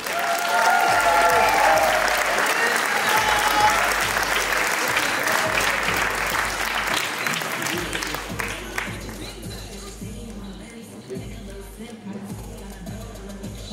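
Audience applause at the NABBA Austrian bodybuilding championship, loud continuous clapping and crowd noise that gradually thins and fades, with a voice speaking over it near the end.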